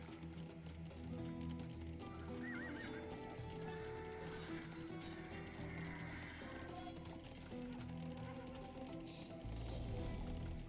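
Game horses clatter along amid a busy mix of clicks, hoofbeats and occasional whinnies, with battle and interface sounds layered throughout.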